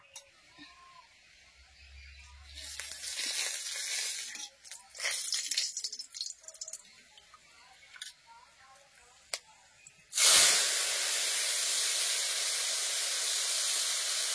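Dried red chilli dropped into hot mango chutney: a few quiet clinks and faint sounds come first, then a sudden loud hiss that bursts up and holds steadily to the end.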